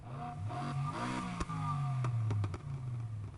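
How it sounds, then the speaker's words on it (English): Car engine preview during an engine swap in the racing game Need for Speed Heat, a close, loud engine revving up and settling with rising and falling pitch, punctuated by a few sharp clattering pops. "you can engine swap, and I like the fact you can hear the engine before you swap it"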